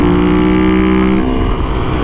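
A Porsche engine roars loud and close with a steady tonal drone, the note dropping away partway through as the pitch shifts and the sound carries on rough and broad.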